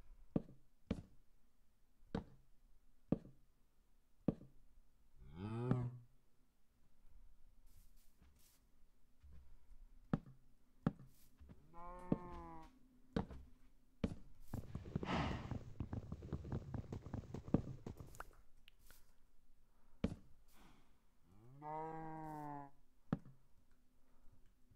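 Cows in the Minecraft video game let out three short, wavering moos spaced across a quiet stretch. Soft clicking and tapping from gameplay steps and actions sounds between them.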